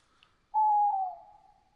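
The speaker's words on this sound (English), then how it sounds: "Holy owl." A single owl hoot in the DayZ game world, set around an airfield in Chernarus, rises from near silence as one sustained, fairly loud call that slowly fades, with no talk over it.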